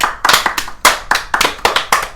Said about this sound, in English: everyone's going to fucking hate how much clapping we've done